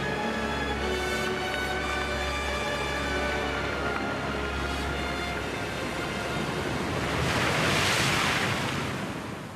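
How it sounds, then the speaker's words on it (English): Sea waves surging onto a shore, shifting sand and stones, with a steady roar of surf and wind noise on the microphone that swells into a louder wash toward the end. "The tide waits for no one, and the sea soon set to work to move sand"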